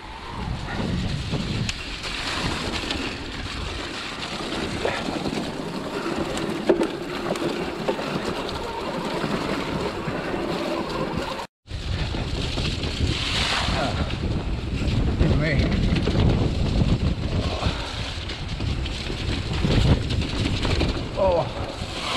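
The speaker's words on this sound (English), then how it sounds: "Too windy." Strong wind buffets the microphone in a continuous roar on Welsh mountain bike trails, with a brief dropout near the middle before the gusting resumes just as loudly.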